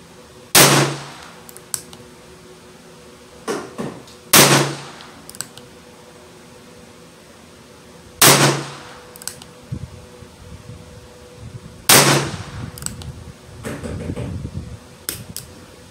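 Taurus Tracker revolver chambered in .22 Magnum / .22 LR firing at a target at 25 yards outdoors: four sharp, well-spaced shots with quieter clicks and handling noises between them.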